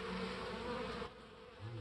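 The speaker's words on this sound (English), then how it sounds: "There's wasps down there." Wasps robbing a beehive make a close, continuous insect buzz that holds steady for about a second, then drops to a quieter drone, with no talking.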